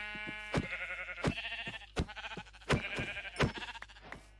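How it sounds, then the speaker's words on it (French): Sheep bleating in the Minecraft video game, a run of about six short, nasal bleats at irregular intervals over a low steady hum, clear and close with no talk. "les moutons, là, ici, il y en a 4"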